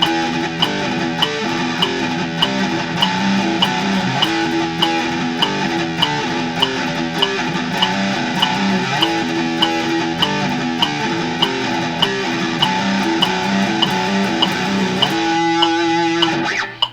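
Palm-muted metal rhythm guitar riff, distorted and chugging, cycled three times in a steady driving pattern at close range, ending with a brief sustained chord.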